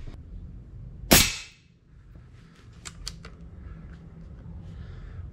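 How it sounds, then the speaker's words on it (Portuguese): A Leviathan 5.5 mm air rifle firing a 20-grain Monster slug gives a single sharp, loud crack followed by a short decay and faint clicks of handling afterward. "Quinto e último disparo do slug de 20 da Monster."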